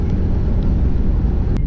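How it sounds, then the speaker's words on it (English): A low, continuous engine rumble drones close by, airplanes overhead near the airport in El Segundo, Los Angeles, mixed with road noise from a moving car heading onto the 105 freeway. "That's why you're hearing airplanes, by the way."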